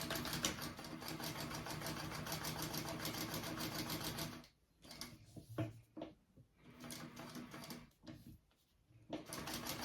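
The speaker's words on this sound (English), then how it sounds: "And then I'll sew down both sides of that connector." Sewing machine stitching down both sides of a connector on a Tremont crossbody bag, a fast steady whirring run for several seconds, then short stop-start bursts with pauses between, close and quiet.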